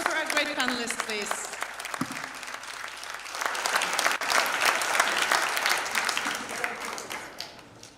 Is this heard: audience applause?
yes